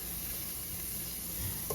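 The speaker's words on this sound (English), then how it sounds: "I am going to melt me some butter." Butter melting in a pan for soul food cooking, giving a quiet, steady close sizzle with faint crackle throughout and a tiny clink near the end, no voices.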